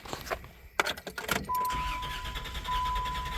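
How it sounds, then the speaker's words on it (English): A 1993 Plymouth Grand Voyager SE, left sitting 18 years, is cranked over with a component unplugged. Brief clicks and a key jingle come first, then a steady close starter-motor churn for about two seconds without firing. "Let's just crank it over and see what it sounds like."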